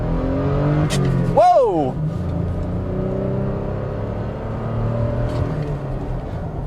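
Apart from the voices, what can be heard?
2021 Toyota Tacoma manual accelerating hard in first gear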